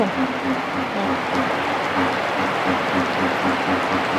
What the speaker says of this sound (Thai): ฝนตกเบิด